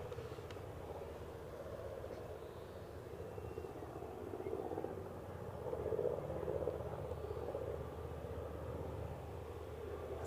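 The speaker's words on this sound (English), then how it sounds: "the KLM that's overflown your house" A KLM airliner passing overhead near Aberdeen airport, a broad distant engine rumble that swells gradually toward the middle and stays steady, with no talk.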